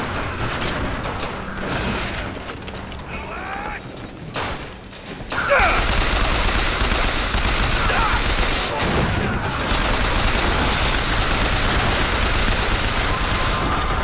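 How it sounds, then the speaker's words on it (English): Sustained enemy gunfire in Bioshock Infinite aboard an airship, steady overlapping shots and crackling bursts that continue loudly and without pause for many seconds. "You're shooting at my butt."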